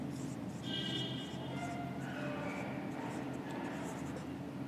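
Pen scratching figures onto paper while working accounting problems, a soft close scribble in short strokes over a faint background hum.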